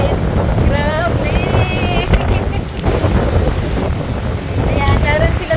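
Strong wind buffets the microphone in a loud, continuous roar at a mountaintop private resort, with a voice and high sounds faintly breaking through the rushing noise.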